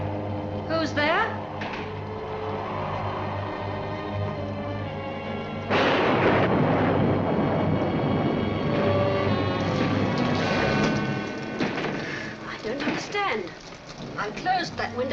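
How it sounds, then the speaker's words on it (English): A stormy roar swells suddenly and stays loud, with rumbling, hissing rain-like noise and voices underneath, in a 1946 noir thriller film. "I closed that window when the storm started."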